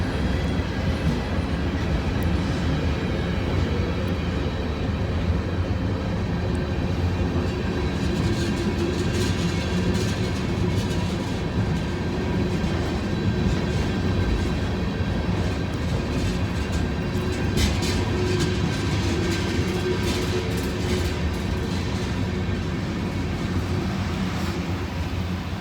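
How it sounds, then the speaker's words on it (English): A freight train with empty tank cars rumbles past close by while running down a street in La Grange, Kentucky, a loud, steady roll of heavy wheels with faint rhythmic clicking and squeal, no voices. "You can walk right next to the train down here."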